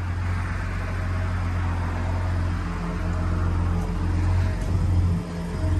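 2022 Ford Raptor pickup idling, a steady low engine hum with a faint hiss, even and unchanging from start to finish, no voices.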